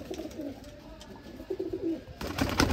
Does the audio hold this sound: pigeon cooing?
yes